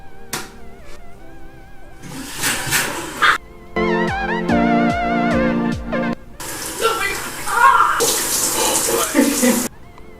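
Cold water runs steadily from a faucet as hair soaks beneath it, a continuous close splashing hiss that shifts in tone as the stream hits the head, with brief interruptions.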